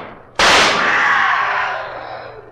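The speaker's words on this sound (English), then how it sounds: "Quick, fire your pistol." A single sharp pistol gunshot in a radio drama set in a moonlit cemetery, cracking loudly and then ringing off in a long fading echo, with no voices over it.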